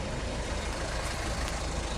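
A 2013 Hyundai Santa Fe arrives at a customer handover, its engine and road noise a dense, steady wash at moderate volume with no voices.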